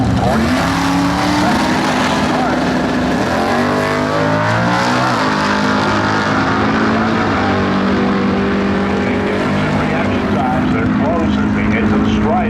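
A Mopar and a 1956 Chevy drag racing at a nostalgia drag strip roar loudly and continuously, engine pitch rising and shifting as they run, close and dominant throughout.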